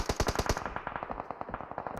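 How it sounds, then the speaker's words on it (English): Rapid automatic gunfire in the mobile battle royale game PUBG Mobile during an esports match, with dense bursts of shots at first that thin into scattered, more distant echoing fire. "you just hear just gunfire like crazy"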